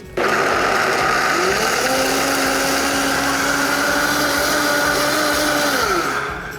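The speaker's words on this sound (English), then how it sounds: "So let your blender run as long as it needs to get everything nice and smooth in there." A blender runs at high power through a blueberry and pumpkin seed smoothie, switching on abruptly with a loud steady whir and pitch shifts as the contents churn, then winding down near the end.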